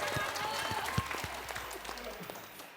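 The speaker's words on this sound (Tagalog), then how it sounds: "Palakpak!" Audience applause and scattered clapping ring out at a pageant, a brief crowd burst that fades over a few seconds, with a few sharper claps standing out.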